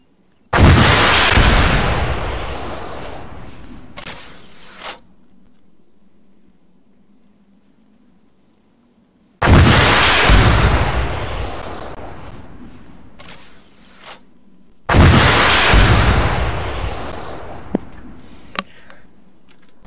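Three loud launches of a FIM-92 Stinger fired at a tank in an Israel Defense Forces video game mod, each a sharp blast trailing into a rushing roar, spaced several seconds apart with a low hum between.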